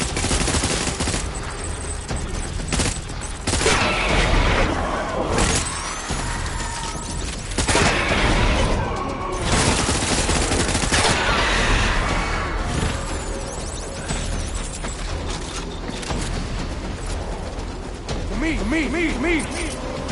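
Gunfire in the video game Death Stranding: sustained bursts of rapid shots and booms mixed with game sounds and voices, dense and loud throughout the battle.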